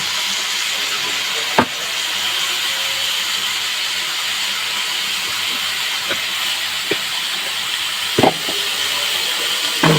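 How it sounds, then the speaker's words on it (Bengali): Mixed vegetables with pumpkin slices fry in a pan with a strong, steady sizzling hiss and a few sharp clatters. "একটু ভাজা হবে, এর মধ্যে 2টো মিষ্টি কুমড়ো ফালিও দিয়ে দিয়েছি"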